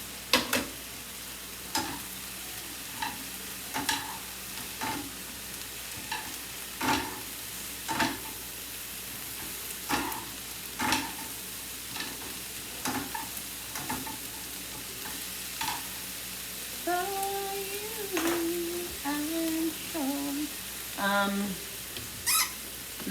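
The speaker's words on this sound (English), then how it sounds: "Trying to be easy with this metal thing on the pan because I don't want to scratch my pans up." Metal utensil stirring and scraping steak, bell peppers and onions frying in a pan, a steady sizzle broken by repeated close clanks and scrapes, with a brief voice near the end.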